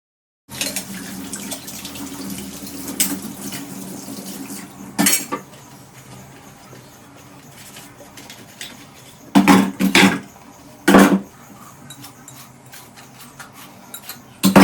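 Dishes being washed at a sink with dish soap liquid and water: a steady low trickle of water runs under repeated clattering bursts of metal pots and utensils knocking together, loud and close, with no talking.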